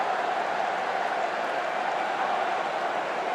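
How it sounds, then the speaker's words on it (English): Steady roar of a football crowd cheering a Bolton Wanderers goal, a broad, even wash of distant voices and applause holding at constant loudness throughout. "Something for their fans to cheer."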